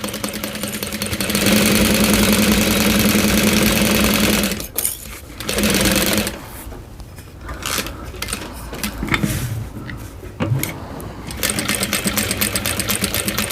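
A sewing machine stitches a bowler bag in a rapid buzzing run of stitches that stops and restarts in short bursts, with handling clatter in the pauses.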